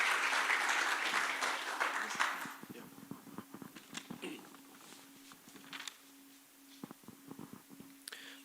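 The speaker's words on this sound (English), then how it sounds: "So please give a round of applause." Applause from an audience at a hackathon final pitch session starts loud and dense, then fades to scattered claps while a low hum persists underneath.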